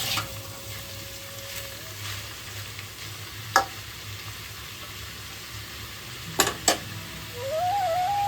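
Ash gourd pieces cook with salt in a pan under a low, even sizzle, while gentle stirring brings a few soft scrapes and several brief, sharp clinks of a utensil on the pan.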